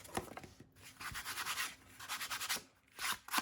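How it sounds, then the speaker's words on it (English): An ink pad rubbed back and forth over the top of paper, close scratchy strokes in a steady rhythm, swelling and fading with each pass. "your ink pad and just rub it over the top."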